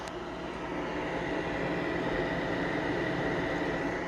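An old fat PS3 console with its cooling fan running hard, a constant airy whooshing roar like a jet engine, steady and close with no pauses.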